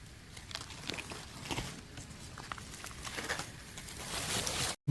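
Light patter of wind-driven rain with scattered crackling drops, fairly close, under a continuous soft hiss; no voices.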